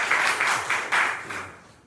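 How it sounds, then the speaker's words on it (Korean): Congregation at a Sunday service in an army artillery brigade church applauds a departing soldier, a brief burst of group clapping in pulsing waves that fades out quickly. "우리 박수로 축하했으면 좋겠습니다"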